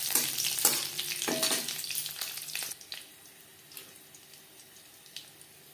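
Whole cumin seeds and green chili spit and crackle in hot oil, loud and close at first with sharp popping bursts, then settling to a quieter, sparser sizzle with an occasional clink.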